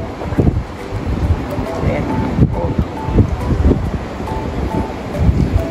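Cool wind at SkyWay in Singapore's Gardens by the Bay, gusty buffeting noise on the microphone, loud and close, with brief speech over it.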